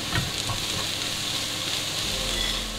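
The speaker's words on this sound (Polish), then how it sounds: "Jak już cebula się troszeczkę podsmaży, dodaję marchewkę wraz z pietruszką i na razie podsmażam tylko." Carrot, parsley and onion fry in a pan, a steady close sizzle with faint stirring scrapes throughout, no voices.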